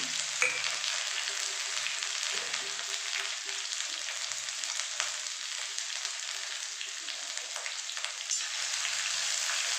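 Ginger sizzling and frying in a pan while a vegetarian kabuli chana curry is being cooked, a steady close hiss of hot oil lasting throughout with small stirring bumps and no talk.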